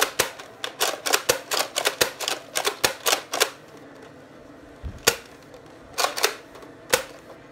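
Rapid gunfire in the zombie shooter Left 4 Dead: sharp, close shots in fast bursts, a tight cluster early on, then a quieter gap and a few more spaced shots at the end, with no voices.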